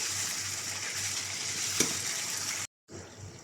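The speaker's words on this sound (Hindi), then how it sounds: "फिर से हम चिकन को 3 से 4 मिनट हाई फ्लेम पर तेल सेपरेट होने तक भून लेंगे।" Chicken pieces with masala paste frying in oil over a high flame for curry, giving a continuous bright sizzle with a single stirring clink midway and a short break near the end.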